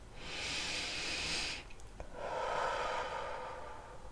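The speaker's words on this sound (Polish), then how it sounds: "Wdech nosem i długi, głośny wydech ustami." Long, loud breath pushed out through the mouth in a calm breathing exercise, heard as two sustained airy gusts separated by a short pause, close and clear with no talking.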